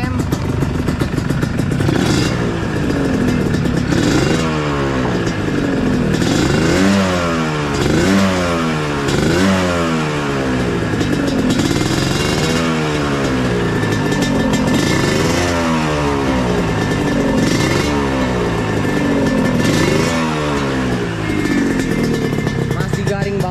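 A rare two-stroke motorcycle revved repeatedly, rising and falling engine pitch in steady cycles with a rattly buzzing tone, loud and close throughout.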